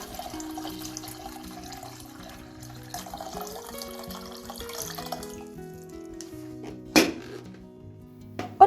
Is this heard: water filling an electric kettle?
yes